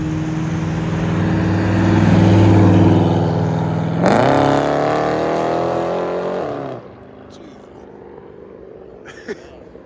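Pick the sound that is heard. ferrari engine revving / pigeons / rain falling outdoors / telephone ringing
ferrari engine revving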